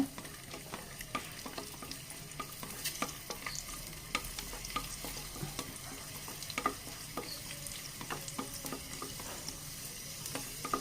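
Almonds and raisins roasting in a pan for semiya payasam, a steady soft sizzle with frequent light scraping stirs and small ticks, close and quiet throughout with no talking.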